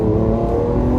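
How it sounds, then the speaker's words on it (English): Lamborghini Aventador S mid-mounted engine hums loudly and steadily from behind the cabin, a deep sustained drone heard close up from inside the car. "you can really hear that great big engine behind me"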